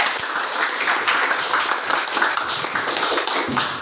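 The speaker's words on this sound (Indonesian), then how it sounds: "Tepuk tangan dulu untuk kelompok 1." Classroom audience applauding a student group after their presentation, a steady, dense wash of clapping from many hands that holds throughout.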